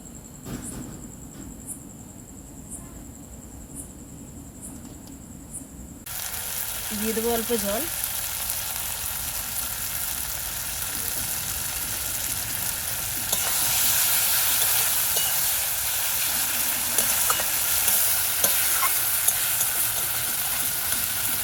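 Spice paste with cashew paste and chopped tomato fries in a pan for a fish curry with potato and eggplant, a continuous sizzle with stirring scrapes that grows louder partway through, a brief voice murmuring early on.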